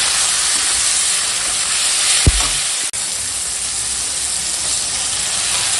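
Soybeans sizzle steadily in hot oil with chilli powder, turmeric and salt, a dense, even frying hiss broken by one brief clunk of a spoon or pan near the middle.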